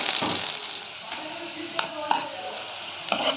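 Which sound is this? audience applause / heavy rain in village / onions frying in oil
onions frying in oil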